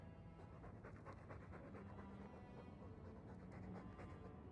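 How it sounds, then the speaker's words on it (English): A dog in the video game Dragon Age 2 pants steadily and heavily, a continuous breathy rhythm over a low indoor hum, with no talking. "All that noisy dog breath,"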